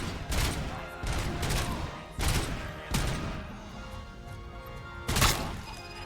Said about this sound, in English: Burst shot literally blows them open.